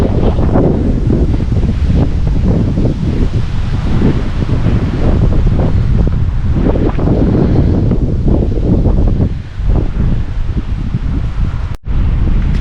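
Gusts of 35 to 40 mph in an early November wind storm blow loud and unbroken, surging and rumbling against the microphone with repeated swells and a brief dropout near the end.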